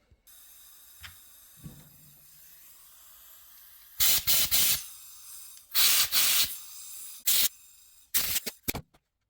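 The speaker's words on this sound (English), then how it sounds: "Sprayed it with carb clean" Carburetor cleaner sprays onto a Cub Cadet snow blower carburetor in several loud, close hissing bursts of about half a second to a second, after quiet handling clicks.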